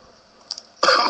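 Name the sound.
cough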